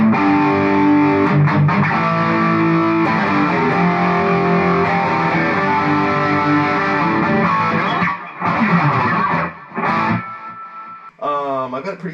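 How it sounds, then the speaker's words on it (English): A loud, distorted electric guitar chord through a Boss Katana Artist MkII head and Waza cabinet rings out with a short delay effect, followed by a few choppy strums and a bent note. "Let's add the delay, the short delay."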